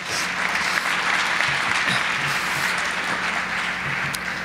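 Audience applause at a university state-of-the-university address, steady and sustained throughout, a large crowd clapping with no let-up.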